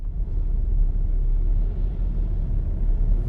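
A car drives along, heard from inside the cabin as a steady low rumble of road and engine noise with no other sounds on top.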